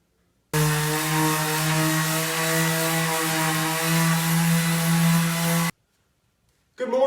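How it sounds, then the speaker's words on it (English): Power sander working on kit car body panels in a garage, a steady loud droning whine with strong harmonic hum running continuously for about five seconds, then cutting off to silence before a brief restart. "then we'll start sanding."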